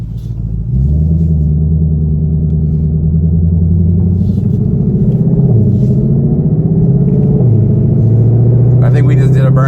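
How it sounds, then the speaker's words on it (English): A 2020 Shelby GT500 or C8 Corvette launching hard and breaking into an accidental burnout, its deep engine rumble rising and holding steady for several seconds with a brief tire hiss near the end, loud and close. "I think we just did a burnout without even trying"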